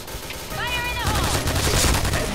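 An L86 LSW light support weapon fires in the shooter game Point Blank on a Thai server, loud rapid automatic bursts dominating the mix while a player talks alongside.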